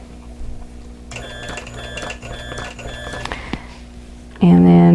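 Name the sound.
sewing machine quilting around an embroidered heart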